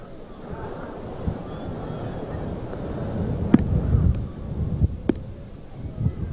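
Gusty wind buffets the microphone at an open outdoor sports field in Saranac during a girls' soccer playoff game. The low rumble swells and fades, with a few brief knocks and a voice partly heard.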